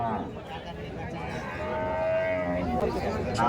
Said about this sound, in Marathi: भरपूर प्रमाणात इथं आपल्याला शेतकऱ्यांच्या गाई पाहायला भेटतील